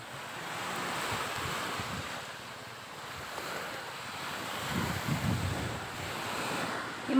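Ocean surf rolls and washes in the distance at Tubajon, mixed with gusty wind buffeting the microphone.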